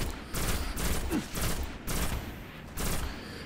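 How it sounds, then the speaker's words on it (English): A pulse rifle in the video game Destiny fires in rapid bursts, three loud rattling volleys of energy shots separated by brief gaps, with no talking. "It's the pulse rifle."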